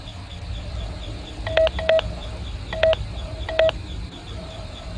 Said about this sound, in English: Please enter your name as seen above the keypad.